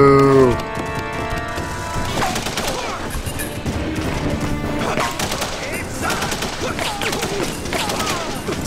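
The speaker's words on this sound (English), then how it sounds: "Somebody else is shooting him" Rapid gunfire erupts in The Punisher video game at Fisk Industries, dense bursts of shots and impacts continuing steadily after a brief musical opening.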